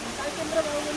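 A waterfall at Tindhare Jharana in Kavre gives off a steady, even rushing hiss, continuous and fairly loud throughout.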